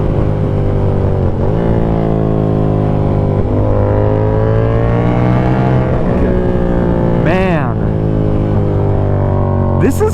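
A Yamaha R7 motorcycle fitted with an SC Project CR-T exhaust hums steadily and loudly as it is ridden, its engine note rising and falling through gear changes with a couple of sharp revving sweeps near the end.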